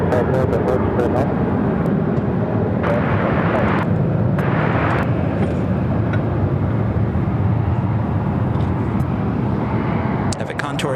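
A Contour Aviation ERJ 135ER jet roars steadily at Phoenix airport, a loud, broad engine rumble sustained throughout, with a voice talking over it.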